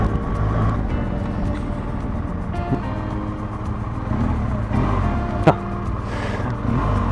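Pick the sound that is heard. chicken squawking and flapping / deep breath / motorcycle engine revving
motorcycle engine revving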